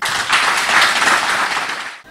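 Audience applause after a call to honor Denis Sassou Nguesso, a dense, steady wash of clapping lasting about two seconds before cutting off abruptly.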